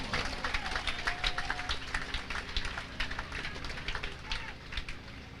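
A church congregation applauds for Jesus, a rippling wash of many hands clapping at moderate distance, steady for several seconds before thinning, with some voices mixed in.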